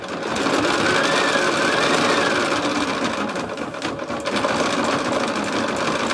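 A Bernina B 790 Pro sewing machine stitches a Christmas holly-leaf project, a fast, continuous mechanical whir and needle chatter running close and steady throughout with brief slight dips in speed.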